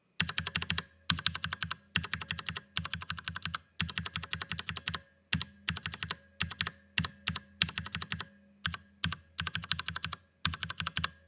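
Cherry MX Brown keyboard switches with lubed springs are typed on in quick bursts of close, crisp clacks separated by short pauses, alone and without rattle.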